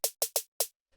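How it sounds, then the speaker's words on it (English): Four bright, very high-pitched short snare hits from a footwork drum kit, sounding alone in a quick uneven burst with fast decay, followed by a faint trailing tap. "The key here is just a very high pitched snare."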